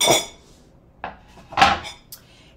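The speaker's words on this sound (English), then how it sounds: "Let's move our cutting board out of the way here." A cutting board shifted aside on a kitchen counter, producing a few sharp knocks and scraping clunks of board against surface and nearby utensils, scattered over about two seconds with quiet gaps.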